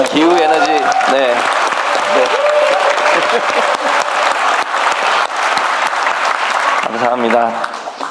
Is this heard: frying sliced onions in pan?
no